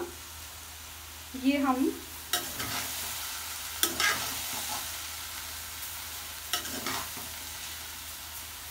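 Restaurant-style chicken chilli stirred and mixed in a hot pan gives a close sizzle with repeated scraping strokes and clatters, while a person talks briefly early on.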